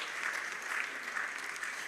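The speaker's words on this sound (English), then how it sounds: "Please, another round of applause for the Mighty Gabby." An audience at a formal ministerial forum opening ceremony applauds the calypsonian Mighty Gabby, a steady even patter of many hands clapping heard from a distance, faint and continuous.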